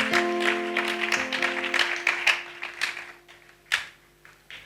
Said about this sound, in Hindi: खुदा के लिए एक बार ताली बजाएंगे